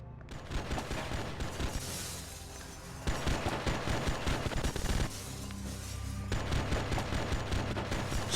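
Sustained bursts of enemy gunfire in the PC action game Oni, loud and dense, with rapid automatic fire and booming impacts layered over a steady background score for the whole stretch.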